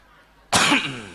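A single loud, close cough bursts out after a short quiet lead-in, sharp at onset and then trailing off, during an Indonesian comedic religious sermon.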